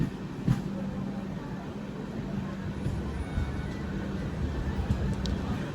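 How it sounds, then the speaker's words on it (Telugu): The Vasco da Gama–Secunderabad express train runs with a steady low rumble and rolling hum, heard from on board or close by, continuous and moderately loud with faint clicks of wheels over the rails. "ఇది Vasco da Gama Secunderabad train, Hyderabad train కాదు."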